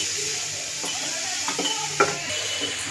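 Beetroot and carrot stirred in a pot with a steady sizzle underneath, a few scraping clinks of the spoon, and a sharp knock near the end as a lid is set on.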